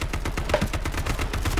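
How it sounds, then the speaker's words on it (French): Rapid gunfire in the online survival game H1Z1 rattles in quick, evenly spaced bursts, close and steady throughout. "il y en a un deuxième qui vous tire dans le dos"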